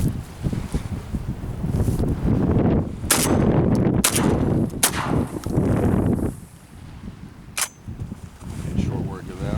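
A Smith & Wesson 1000 12 gauge shotgun fires at soda cans outdoors, several sharp, loud reports spaced a second or so apart over steady wind noise on the microphone.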